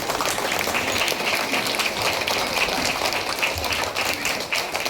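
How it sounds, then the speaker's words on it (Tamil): A crowd applauds at a school ceremony held at a Panchayat Union primary school near Alangudi, with steady, dense clapping that runs evenly throughout without talk. "எல்லாரும் கைதட்டுங்க"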